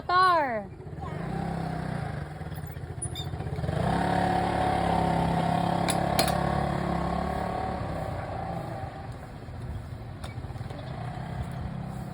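A motorcycle engine idles and revs close by, a steady mid-pitched rumble rising partway through, with people talking over it.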